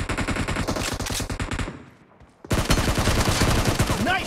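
Rapid automatic gunfire in the mobile shooter Battlegrounds Mobile India during a team deathmatch, loud and close, breaking off briefly into near silence before another sustained burst takes over.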